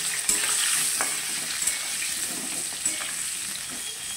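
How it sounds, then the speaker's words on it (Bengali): Pointed gourd and potato pieces fry in hot mustard oil in a pan, a steady close sizzle with faint stirring ticks and no talking. "যতক্ষণ পটল আলুটা ভাজা হচ্ছে"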